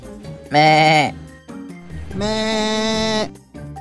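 A human voice imitating a goat's bleat during a shadow puppet play: two wavering, nasal bleats, a short one and then a longer one, close and loud.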